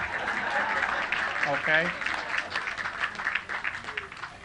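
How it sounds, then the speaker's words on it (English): Women in the audience at a woman suffrage dedication clap, a moderate, fairly dense patter of applause with a voice briefly speaking over it, fading toward the end. "You ladies can clap"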